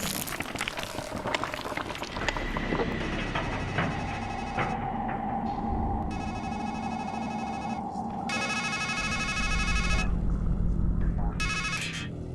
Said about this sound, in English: Then a phone rings, and a voice on the other end says